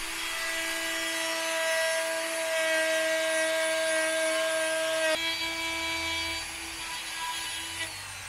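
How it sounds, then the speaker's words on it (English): A router cuts into the back side of a wooden top stair riser during a deck build, giving a loud, steady, high whine with a slight shift in pitch midway as the cut continues. "I'm routering the back side of the top riser to avoid the stair hanging metal brackets"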